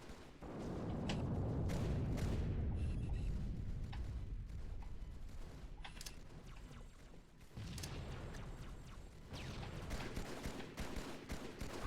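Video game gunfire from the 2003 Halo 2 E3 demo: a loud, sustained barrage of overlapping shots with sharp cracks and a rumbling low end, briefly easing partway through before the firing picks up again, with no voices.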